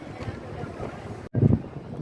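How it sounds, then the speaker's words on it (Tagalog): Strong wind blows across an open rooftop, buffeting the microphone with a rough, rumbling roar that cuts out briefly and then surges in a heavy gust. "Mahangin lang, malakas ang hangin."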